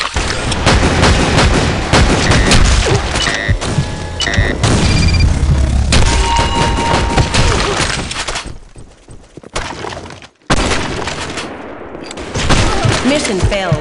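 Loud sustained gunfire and explosions in a video game, with a grenade blast among dense, continuous bursts of shooting and booms that briefly drop away near the end before resuming.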